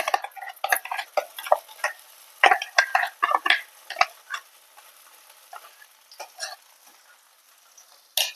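Ground chana dal paste is worked around in ghee in a pan for puran poli, making irregular dry clicks and scrapes of a spatula against the pan, close and sparse, thinning out toward the end.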